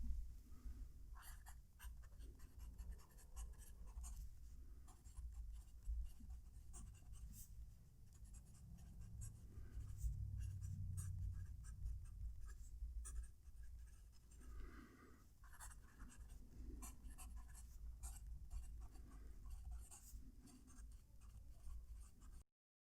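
A TWSBI Eco fountain pen writes across paper close to the mic, a continuous scratchy nib rasp with short stroke bursts and pauses, fairly loud for pen writing, with no one talking.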